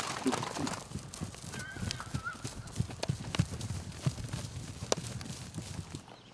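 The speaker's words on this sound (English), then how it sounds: "the cowboys at the Circle Bar Ranch are driving in the horses" Horses' hooves clip-clop steadily on the ground as cowboys drive the herd in on a Montana ranch morning, a close, irregular run of hoofbeats with an occasional faint whinny and bird calls.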